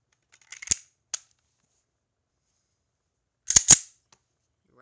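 Slide of a Sig Sauer SP2022 9mm semi-automatic pistol loaded with dummy rounds racked by hand: two sharp metallic clacks, a pause, then a louder double clack, close up in a quiet room.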